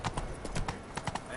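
Roach, a horse in The Witcher 3 on PS4 Pro, clip-clops in a quick uneven run of distinct hoof strikes under a voice, with no pauses in the hooves.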